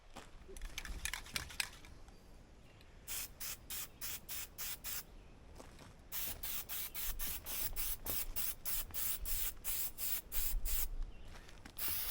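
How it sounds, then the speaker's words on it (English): Oil spray misted in repeated short bursts over a tractor part during repairs, a rhythmic run of quick hissing puffs close by with brief pauses between, no talking. "So we can put our oil spray on that now."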